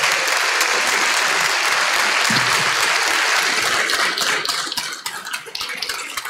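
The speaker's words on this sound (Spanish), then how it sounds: "les vamos a dar un aplauso de bienvenida a los youtubers que ahora nos acompañan" A legislative assembly audience claps steadily in a dense, sustained round of welcome applause for visiting YouTubers, which thins into scattered claps near the end.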